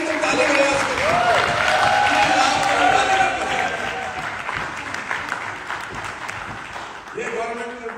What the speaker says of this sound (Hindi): कितना चेक बना कि तुम ताली बजा सको?